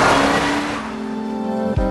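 A supercharged 5.4-litre V8 in a 2007 Ford Shelby Cobra GT500 revs loudly and close, holding a steady droning note before a sharp blip near the end, with no talking.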